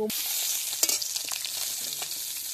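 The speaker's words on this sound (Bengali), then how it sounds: "পুঁটি মাছগুলো ভাজার জন্য ছেড়ে দিচ্ছি" Small puti fish frying in hot oil in a kadai, a steady bright sizzle with faint crackles and a few light stirring clicks, close and with no talking.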